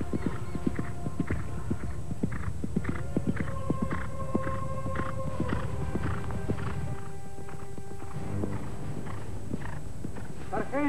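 Horse hooves clip-clop in a steady walking rhythm, close and clear, with a brief whinny and faint background tones, no talk over them.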